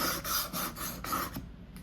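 A knife blade is drawn back and forth across a sharpening stone in about five quiet, rhythmic rasping strokes, then the scraping stops.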